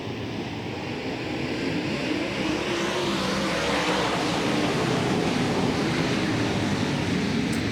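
Dirt track modified race cars roar off at a green flag start at Volusia Speedway Park, a dense, steady wash of engine noise swelling slightly as the field accelerates, heard from a distance with no talk.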